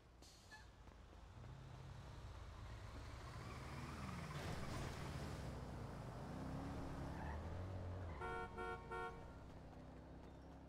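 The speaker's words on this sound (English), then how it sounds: "We almost got hit by a car." A car in the NoPixel video game roars past with rising and falling engine pitch, followed by a run of loud horn toots near the end, and no voices are heard.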